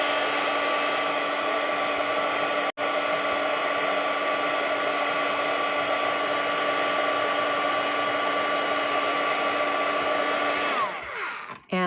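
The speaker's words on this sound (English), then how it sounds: "I'm going to dry it so that I don't end up smearing it again as I'm working" A hair dryer blows steadily over a watercolor painting, a loud constant whirring hum with a brief cut near the start before it winds down and switches off at the end.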